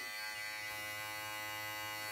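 Brio Beardscape beard trimmer runs with a steady, even electric buzz, close and continuous, with no change in pitch or any talking.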